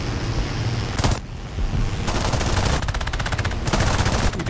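Bursts of P-36A machine gun fire in the War Thunder air combat game, rapid loud volleys separated by short pauses over a constant engine drone, with no talk.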